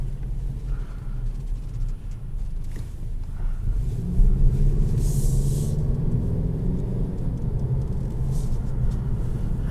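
A 2021 Kia Stinger GT-Line pulls away and drives, its engine rumble rising after a few seconds into a steady, moderately loud drone with faint road noise heard from inside the cabin.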